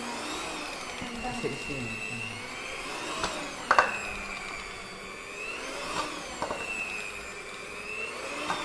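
A cheap electric hand mixer runs with a steady, wavering whine while mixing for soft potato doughnuts, a person talking over it and a few sharp knocks along the way.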